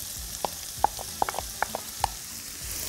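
Sliced onions sauté in a pan for a liver and gizzard stew: a soft background sizzle broken by several sharp clicks and scrapes at irregular intervals, close by with no talking.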